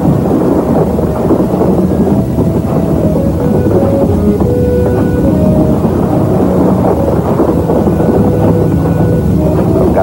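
Heavy tropical downpour with rumbling thunder over an old lakebed in the rainy season, a dense, loud and continuous roar of rain with low rolls of thunder throughout.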